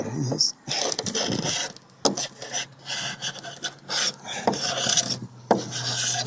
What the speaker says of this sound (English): This is just a paint scraper I found at the local hardware store. But as you can see, it's coming off pretty good.